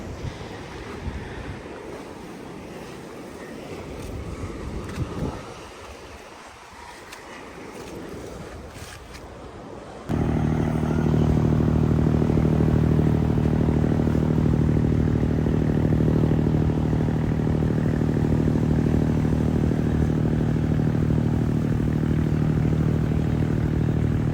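Out at sea off Weligama beach, waves and wind buffet the microphone before a motor boat's loud, steady engine drone swells in close at about ten seconds and holds strongly to the end.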